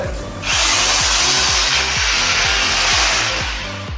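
A power drill whirs loudly and steadily as it bores into a wall, with a grinding, rumbling motor tone and a rising hiss that holds throughout.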